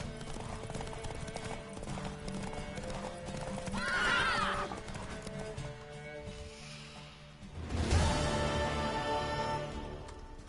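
Rhythmic horse hoofbeats clop steadily throughout in The Witcher 3: Wild Hunt, interrupted by loud horse whinnies, with a busy layered game background.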